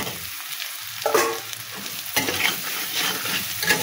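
Potatoes and spices frying in a pan, with close scraping stirs and a steady sizzle and crackle; several sharp spoon strokes stand out over the continuous frying, with no talking.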